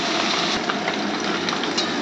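Fish frying in oil on a home stove, a steady dense crackling sizzle that fills the whole stretch, loud and close with no voices.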